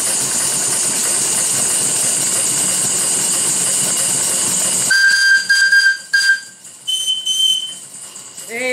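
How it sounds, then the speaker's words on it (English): A steam whistle blows: a long, loud sustained roar with hiss, followed by shorter, clear whistle tones that start and stop over a quieter background. "bit more whistle blowing action for Lev for our old mate up north."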